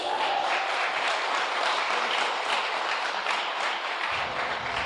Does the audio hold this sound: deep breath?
no